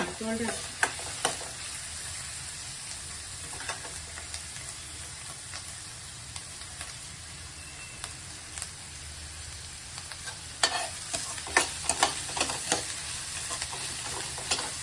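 Chopped capsicum frying in a pan for a palya, giving a low, steady sizzle with occasional stirring scrapes and taps that grow busier toward the end, quiet and close, with no clear speech.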